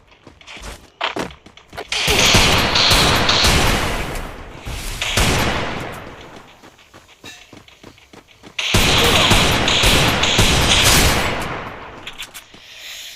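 Gunfire in the mobile battle game Free Fire comes in two loud, sustained bursts of rapid shots separated by a quieter pause with small thumps.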